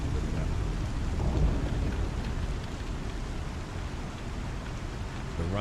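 Steady heavy rainfall with low rumbling thunder in the Star Citizen video game, a dense continuous wash of sound with no speech over it.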